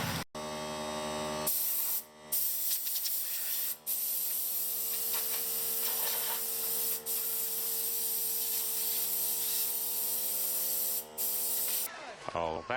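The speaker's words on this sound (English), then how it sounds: "just kind of blow out all this stuff in here that's dirt and leaves and whatever" A steady, loud hiss of compressed air blows dirt and leaves out of a BMW E30 engine bay, running almost continuously with a few short breaks and a low electrical hum underneath.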